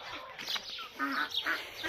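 Ducks in a backyard flock of seven hens and two drakes, one blue and one crested, giving a few short quacks and bird calls at close range amid faint background noise.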